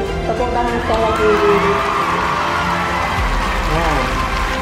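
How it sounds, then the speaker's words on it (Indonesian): An audience at a children's competition cheers and claps for the first-place winner, a loud, dense wash of crowd noise and shouting that holds steady throughout. "Tepuk tangan sekali lagi."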